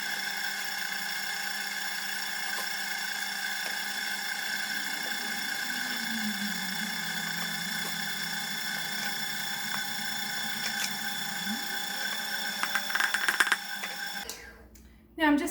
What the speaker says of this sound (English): put my dough attachment on. And I'm going to start mixing it